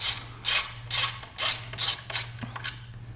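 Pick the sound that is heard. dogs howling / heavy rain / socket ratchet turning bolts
socket ratchet turning bolts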